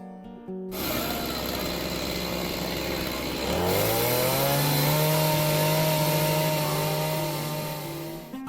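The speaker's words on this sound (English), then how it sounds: "We saw this woman carving wood with a chainsaw and selling the finished products." A chainsaw carving wood buzzes loudly nearby, idling at first and then revving to a higher, steady whine as it cuts, easing off at the end.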